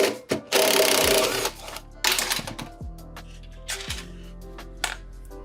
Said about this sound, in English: It's just a 10mm socket. Let's remove that.